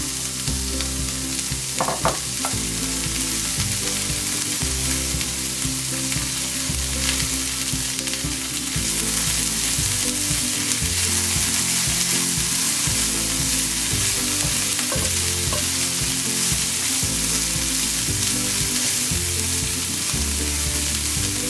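Cabbage and mixed vegetables sizzle and fry steadily in a pan for pasta in cheese sauce, with occasional stirring scrapes and clinks, close and continuous without any talking.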